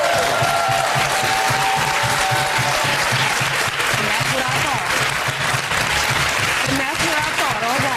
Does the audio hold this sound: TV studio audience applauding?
yes